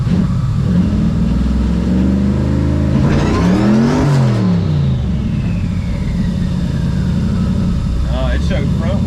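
Twin-turbo Raptor-swapped Crown Vic pulling forward, its engine revving up loudly in a rising then falling sweep near the mic, with a turbo whistle after and voices talking over the running engine.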